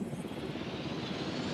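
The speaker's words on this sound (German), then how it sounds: "wir schicken erstmal hier noch den Heli los" Helicopter in the video game Jurassic World Evolution, a steady low rotor and engine rumble, faint and continuous with no talk over it.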